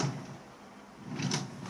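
A quiet bedside-table drawer in a home bedroom slides open with a soft scraping rub, a faint wooden knock and slide near the end, no voices.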